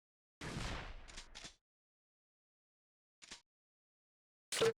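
Video game gunfire from Parasite Eve 2: a sharp burst of shots at the start, then two short isolated shots separated by silence.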